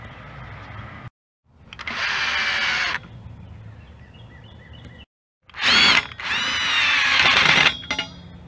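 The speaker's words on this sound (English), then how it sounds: "So let's get this new handrail screwed on" A cordless power drill driving screws to fix a new handrail onto brick veneer, with two whirring runs that rise in pitch and are split by short silences, close and loud.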